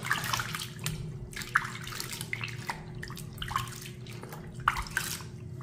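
Water splashes and drips as a face pack of flower powder is rinsed off skin by hand, a steady wet wash of scooping and rubbing with small splashes throughout, close and moderate in level, no talking.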